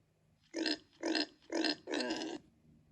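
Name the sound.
pig grunting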